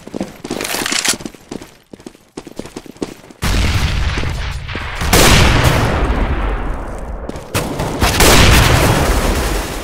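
Gunfire in a first-person shooter match, sharp bursts of shots and booming blasts cutting through a dense, loud battle din, with broadband crackle and rumble throughout.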